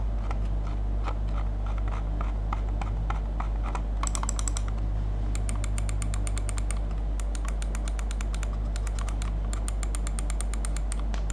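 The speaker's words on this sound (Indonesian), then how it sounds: "Ini klik tengahnya, bunyi scrollnya." Clicks and scroll-wheel ticks from a Rexus Daxa Air 2 wireless gaming mouse, sharp close-up bursts of rapid clicking starting partway through over a steady low background hum.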